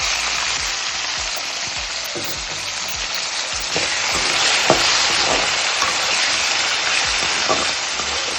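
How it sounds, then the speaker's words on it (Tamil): Steady, loud sizzling of potatoes frying in hot oil, continuous crackle with occasional sharper pops and stirring clinks. "இதை நல்லா ஃப்ரை பண்ணிக்கோங்க"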